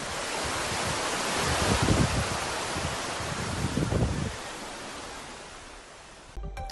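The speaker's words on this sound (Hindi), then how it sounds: "प्राकृतिक झरना वहां पर बहने लगा है" Natural waterfall pouring down the Aravalli hills in Gurugram's Raisina Hills area, a steady broadband rush of falling water with gusty swells, loud and continuous throughout, with no voices.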